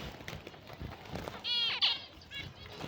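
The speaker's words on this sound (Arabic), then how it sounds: "هاي الطيور قدامكم صحة ونظافة" Red, honey and diamond-colored royal pigeons of Iraqi breed in a loft, giving faint soft cooing and brief flutters among low background noise.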